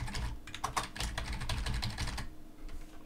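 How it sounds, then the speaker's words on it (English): Rapid typing on a computer keyboard, a dense run of close key clicks for about two seconds before trailing off, no voices. "Just type some characters,"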